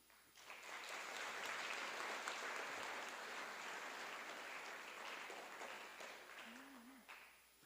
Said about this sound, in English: I just want to give a huge round of applause to that